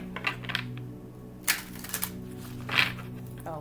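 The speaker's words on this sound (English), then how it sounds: "Oh, look, there it goes shuffling again." Several soft, scattered tarot card riffles and flicks, quiet and close, with brief bursts of shuffling separated by pauses over a low steady hum.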